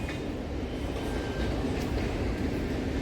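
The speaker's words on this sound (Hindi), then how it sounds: "उधर लोकल ट्रेन चल रही है" A Mumbai local train runs near Kurla station, its steady rumble and rolling wheel noise filling the air continuously at moderate distance, with a faint high squeal briefly riding over it.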